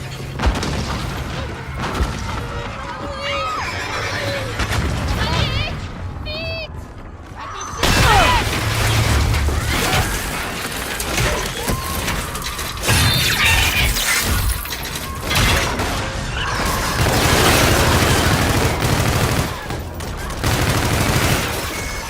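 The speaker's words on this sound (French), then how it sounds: "Vous entendez? On dirait des obus!" Repeated explosions and gunfire from artillery shells landing during a Call of Duty: Infinite Warfare battle, loud and dense over the whole stretch, with heavy booms, crashes and shattering debris.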